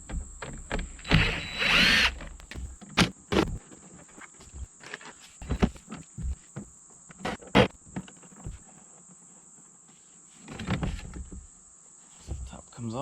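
A power drill fitted with a large Phillips bit backs out screws around the perimeter of a RecPro Houghton Belaire 9500 air conditioner, short whirring bursts separated by clicks and clattering handling, with a steady high whine running throughout.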